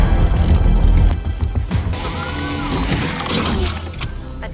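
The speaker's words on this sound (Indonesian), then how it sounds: "Tak lama kemudian terdengar suara ledakan." Movie explosion: a heavy crash and rumble bursts out, then debris and rattling mechanical clatter trail off with a sustained, noisy tail.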